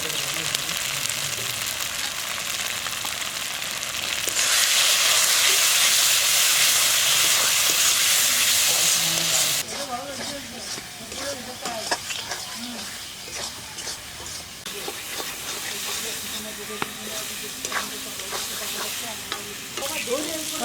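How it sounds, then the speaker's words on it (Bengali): Spice paste with salt and turmeric frying and being stirred in a pan for chicken curry, a loud hiss swelling midway, then scraping stirs and crackling sizzle with a little talk underneath. "মশলা কষানো হয়ে গেছে"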